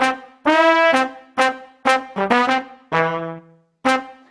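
Pre-recorded brassy horn phrase from a Pop Heavy Horns synth preset, a series of short punchy stabs and one held note with a brief pause before a final stab, bright and loud with no talking.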